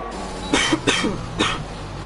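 A few sharp coughs, three or four short bursts close to the microphone, with a low hum underneath, during a Bahrain Grand Prix sim race broadcast.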